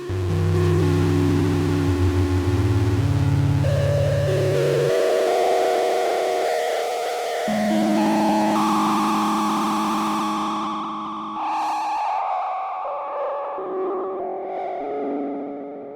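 A buzzy, distorted Yamaha CS-50 analog synthesizer tone, its VCO modulated by noise, steps through shifting pitches, its noisy, modulated texture grinding and warbling without any voice.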